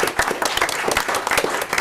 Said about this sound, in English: I think we need to give a round of applause.